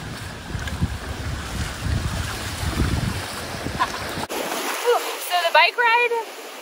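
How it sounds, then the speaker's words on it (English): Ocean waves at Pompano Beach, Florida, splash and wash around in buffeting wind noise during the first seconds, then go quiet as a person talks and laughs close by. "we're actually sitting in the ocean now."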